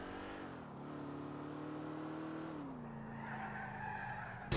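A car in the video game GTA IV revs and accelerates hard with a steady rising engine drone, tyres squealing and skidding, loud and close throughout with no talk.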